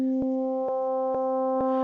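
A synth tone from Ableton Operator, operator B modulating A, pulses as four evenly spaced, clean, buzzy bleeps, each with a rich stack of harmonics, with no voices.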